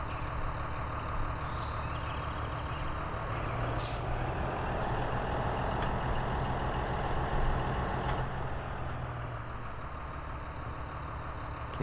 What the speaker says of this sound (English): The milk truck just came through again.